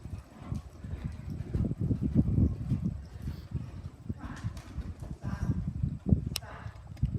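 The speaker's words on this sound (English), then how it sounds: "I know there's a horse out there." A ridden horse clip-clops in a steady stream of close, rhythmic hoofbeats throughout, with a voice speaking briefly over the footfalls.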